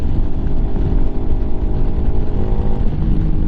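Lifan KPM 200 motorcycle fitted with an aftermarket exhaust, riding steadily with a constant loud, dense engine drone and road rumble throughout, no voices.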